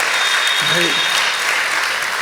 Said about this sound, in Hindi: बजा दो ताली, बजाओ तो ठीक